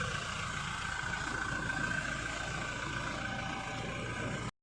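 Used 2017 Toyota Revo 4D TRD pickup with a 2,400 cc, 150-horsepower engine idling close up, a steady even hum with a faint high whine, holding unchanged until it cuts off abruptly at the end.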